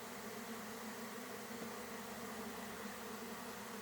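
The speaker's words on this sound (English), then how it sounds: "The bees are swarming." A honeybee swarm fills the air with a steady, dense buzzing drone, continuous and even throughout with no voices.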